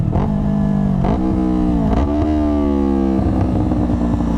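A Yamaha R3 motorcycle engine revving during quick rev-matched clutch shifts, loud and close, its whining pitch dropping and climbing again with each blip, several distinct rises across the stretch.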